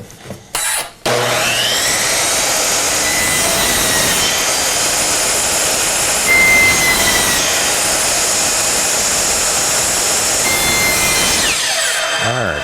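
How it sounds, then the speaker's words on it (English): A power saw cuts wood into a semicircle for an Adirondack chair swing, running as a loud, sustained buzzing whine for most of the span after a few short starts, close by with no talk. "So I'll make another cut here, another cut here, and then just end up with that semicircle shape."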